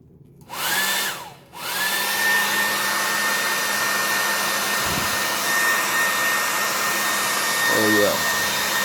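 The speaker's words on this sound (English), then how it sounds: "Now we got our blow dryer." Hair dryer blowing steadily for acrylic pour painting, a loud continuous whir that cuts out briefly near the start, restarts and runs on for several seconds.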